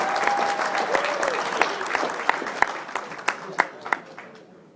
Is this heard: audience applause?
yes